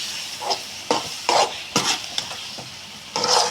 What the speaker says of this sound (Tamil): ஏலக்காயும் பிடிச்சி போட்டு நல்லா இப்படி அடி பிடிக்காமல் கிண்டி நல்லா இப்படி கிண்டணும்